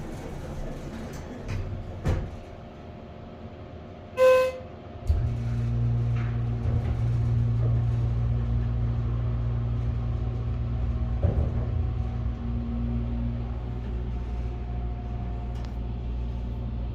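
A Schindler hydraulic elevator motor at a Primark in Roosevelt Field starts up after a few clicks and a short tone, then runs as a steady low hum and rumble, moderately loud and continuous, with no talking.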